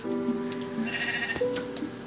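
A sheep bleats in a video game, a couple of clear nasal bleats over a steady game background with light ticking sounds, close and fairly loud, no talk.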